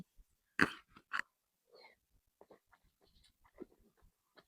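Close, crisp crunching bites, two loud ones followed by quieter chewing crunches, with soft breathing in between and no talking.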